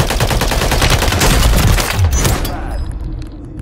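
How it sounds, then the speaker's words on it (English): Dense rapid gunfire in a multiplayer shooter as a player is shot from behind, loud continuous automatic bursts layered together, fading off near the end. "Ah, oh, I got shot from behind."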